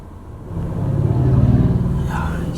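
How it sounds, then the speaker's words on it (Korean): A Mercedes C-Class C200d diesel with 33,000 km on it idles with idle stop switched off. The low engine rumble rises within the first half-second, then holds as a steady, subdued hum heard from inside the car. "아이들링 스탑을 해제하고 공회전 때 누가 더 조용한지 한번"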